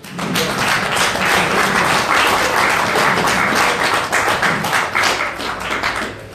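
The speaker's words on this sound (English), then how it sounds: "Give him a round of applause." A crowd applauds steadily, dense clapping sustained throughout with no pause.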